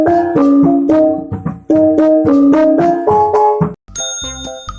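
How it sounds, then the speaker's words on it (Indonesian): A bende, the small metal gong of Lampung gamelan, struck in a lively rhythmic run of bright, ringing tones that vary slightly in pitch and sound loud and close. "Bende berbentuk gong kecil yang terbuat dari logam dan merupakan bagian dari perangkat musik gamelan Lampung."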